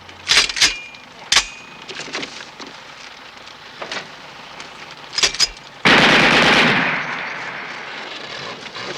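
Several .30 caliber Browning machine guns firing blanks in a war film, bursts of rapid fire and sharp single shots scattered over the first half, then a long loud continuous roar of gunfire that slowly fades.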